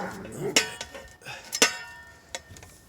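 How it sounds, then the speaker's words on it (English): A neighbor's dog barks a few sharp, short times at a distance during fence repair work with a metal pole and post driver, the barks separated by brief gaps. "The neighbor's dog likes that."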